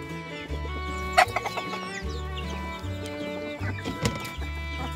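Chickens cluck inside a net enclosure on a farm, with native and heritage birds calling close by over a steady low hum and some brief louder squawks.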